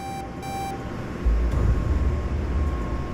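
Alarm going off in a video game: a few short electronic beep tones sound at the start, then give way to a loud, steady low rumble that fills the rest of the moment.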